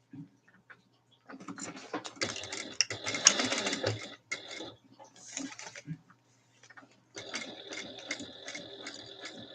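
A home sewing machine top-stitching in two close bursts of rapid, rattling stitches, separated by pauses with handling clicks and a brief spoken remark.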